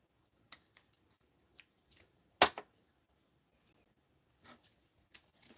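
Scissors trimming paper at close range, with quiet, irregular snips and rustles, one sharper cut in the middle, and a short burst of clipping near the end.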